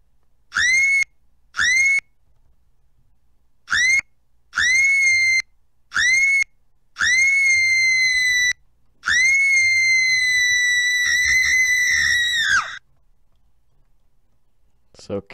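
A character screaming in the SCP-018 horror video game, repeated loud, sustained high-pitched cries in bursts of varying length, close and piercing, with brief silences between them.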